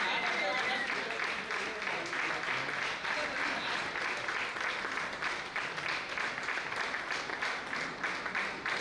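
Continuous, even applause from a seated audience at a community felicitation ceremony carries on steadily without a break, many hands clapping at moderate loudness with faint voices beneath.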